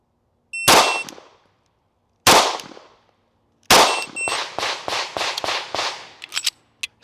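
Gunshots from a competition pistol ringing off steel targets, loud and sharp: two separated shots, then a rapid string of about eight shots with metallic clangs, closing with a few quick lighter hits.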